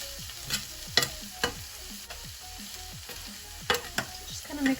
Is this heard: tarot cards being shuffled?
no